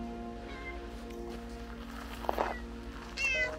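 A cat meows briefly outdoors against a steady low background hum, followed by a couple of faint footsteps and another short high mew near the end.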